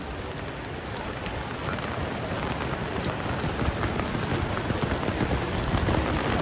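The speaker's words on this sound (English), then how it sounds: "it's pouring rain now" Heavy rain pouring down in Akihabara, a dense, continuous hiss of drops pattering on surfaces close by, steady and loud throughout with no voices.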